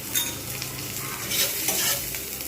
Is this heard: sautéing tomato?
yes